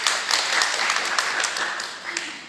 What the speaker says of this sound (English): So please a big round of applause for her.